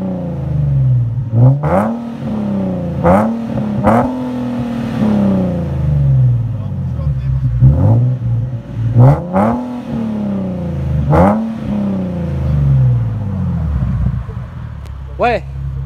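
A car engine cranks and fires, then revs repeatedly in rising and falling surges, loud and close, with people talking between the bursts.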